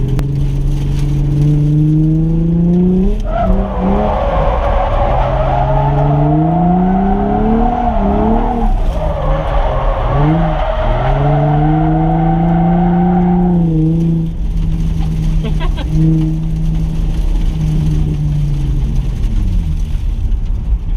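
A Nissan 350Z with a hydraulic e-brake drives hard, its loud engine revving up and dropping through repeated surges, then settling to a steadier drone.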